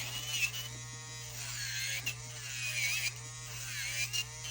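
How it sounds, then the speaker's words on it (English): Electric nail drill with a carbide bit cutting through acrylic nail product, a steady close high-pitched whine with a constant low hum and slight pitch dips as the bit bites in. "you can see how this carbide is just cutting through, just slicing through the acrylic"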